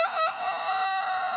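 A rooster crows out of nowhere, one sustained, loud, close cock-a-doodle-doo filling the whole moment with a strained, nasal tone and no talk over it.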